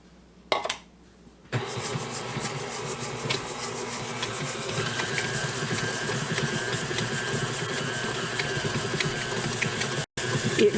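An electric mixer creams butter and sugar for a fresh apple cake batter, giving a steady, fairly loud motor whir that starts after a short gap and then runs almost without a break.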